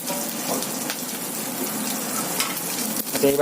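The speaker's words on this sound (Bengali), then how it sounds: "শুকনো লঙ্কা দুটো পরিমাণ মতো শুকনো লঙ্কা দেওয়া হলো" Dried red chillies frying in hot oil in a pan, a steady close sizzle and crackle with faint stirring scrapes throughout, no voices.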